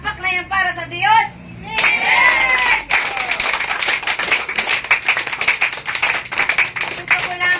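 A church congregation claps for God during a worship service, with dense, sustained applause running from about two seconds onward after a voice at the start; a voice continues over the clapping.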